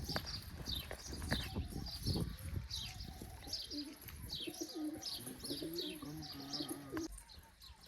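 Pigeons coo softly and repeatedly at close range, with scattered chirps and some rustling and handling noise early on, and no talking.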